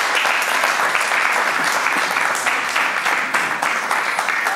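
Steady crowd applause of many hands clapping throughout, filling the room evenly at a surprise 50th birthday party in Zurich, Switzerland.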